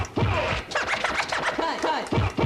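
Rapid DJ record scratching on a turntable, double cuts with paired back-and-forth cuts repeating in a steady rhythm, loud and close.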